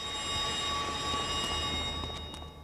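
A train's departure bell in the video game Manhunt rings as a steady, sustained tone above a constant rumbling rail-yard background.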